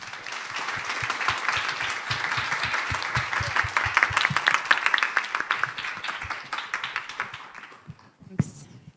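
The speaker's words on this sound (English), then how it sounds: "give a round of applause to the panelists" Conference audience applauding panelists at a women-in-tech event: a room of moderate size clapping with distinct individual claps audible, building, then tapering off with a few last claps near the end.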